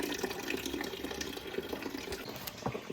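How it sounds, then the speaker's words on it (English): Water and coolant drain from the radiator of a BMW E30 during a timing belt job, a steady close splashing pour with small bubbling surges, no voices. "look how nicely that water drains right out."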